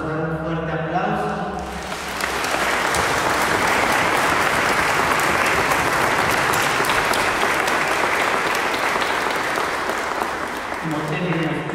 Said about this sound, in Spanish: Les vamos a dar un fuerte aplauso.